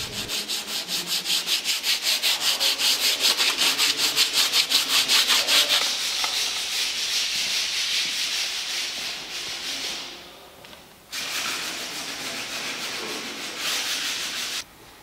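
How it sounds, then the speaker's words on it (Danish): Rhythmic scraping of sandpaper on a wooden church pulpit, fast regular strokes that pause briefly, then resume in a steadier rasp, close and alone. "er man nu begyndt at slibe lidt på den"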